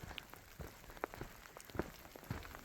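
Light rain falls on the Continental Divide Trail, with faint scattered drops tapping on a surface against a soft, constant hiss.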